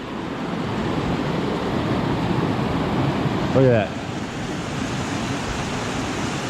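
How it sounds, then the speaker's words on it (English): Taggart Creek pours out of Taggart Lake in the Grand Tetons, Wyoming, as a steady broadband rush of flowing water, with a short voice breaking in briefly near the middle. "This is Taggart Creek, which obviously is coming out of Taggart Lake."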